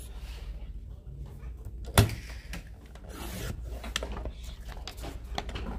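A paper trimmer slices through cardstock at a papercraft workshop: one sharp click, then a soft scraping rasp as the blade slides along, close by with no talking.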